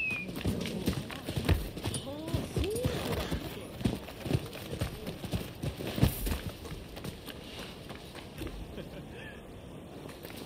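Rapid horse hooves clip-clop in a steady galloping rhythm under a busy mix of other noise, with a brief whinny-like call early on, in the video game Rise of the Ronin.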